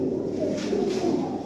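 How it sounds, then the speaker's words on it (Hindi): Breeder pigeons coo close by, a soft, low rolling call rising and falling over a quiet background. "ए कबूतर देखो माशाल्लाह जनाब"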